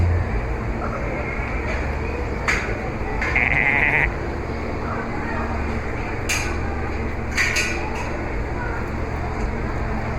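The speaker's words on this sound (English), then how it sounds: "checking out the goats and the sheep." Sheep and goats bleat in scattered short calls at a fair, a few loud nearby cries standing out over steady crowd murmur and background chatter.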